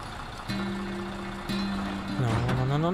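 A truck in the video game SnowRunner creeps along a road at super slow speed, its low engine drone holding steady and stepping up in pitch twice, then revving with a rising and falling whine near the end.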